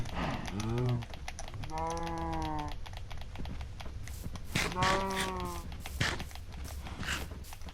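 Cows mooing in the video game Minecraft, two long, tonal low moos a few seconds apart over a busy background of rapid keyboard typing and clicking, with a voice talking between them.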